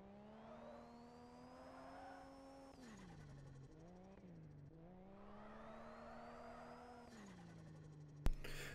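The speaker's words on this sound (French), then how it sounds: "Le son est plutôt correct au niveau des moteurs." A car engine in the Drift Streets Japan video game on PS5 revs with a rising whine, dips and recovers around the middle, then climbs again before a sharp bang near the end. It is fairly quiet overall, with no talking.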